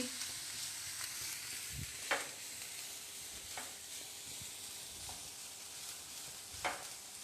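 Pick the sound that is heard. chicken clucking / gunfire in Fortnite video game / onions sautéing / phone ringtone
onions sautéing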